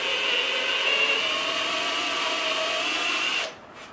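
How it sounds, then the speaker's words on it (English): A power drill spins a rusty tap through a hole while tucking an Acura Integra harness, giving a steady, loud, high-pitched whine that runs continuously for about three and a half seconds before cutting off, with no talking. "put this in the drill, and drill that through the hole"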